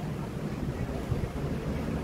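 A steady breeze blows over the microphone outdoors, giving an unbroken low rush of wind for a couple of seconds with no other distinct sounds.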